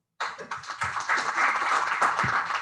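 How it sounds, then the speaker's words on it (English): An audience at a Rotary club installation ceremony breaks into applause, clapping starting abruptly and thickening into a steady, fairly close round of hand claps. "a huge round of applause for outgoing and incoming teams"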